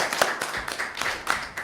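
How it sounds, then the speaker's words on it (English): Applause from a small audience at a council meeting, a short burst of close, uneven hand claps of moderate loudness. "let's give Kim a round of applause."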